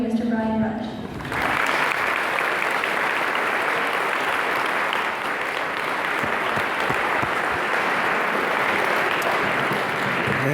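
Audience applause welcoming a speaker at a Rolla High School Veterans Day assembly, a few spoken words followed by sustained, loud clapping from a large crowd that holds steady to the end.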